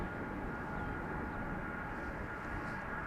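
Boeing 747-200, 31 years old and first flown in 1991, rumbling past at Amsterdam Schiphol Airport as a steady, broad jet roar that holds its loudness throughout.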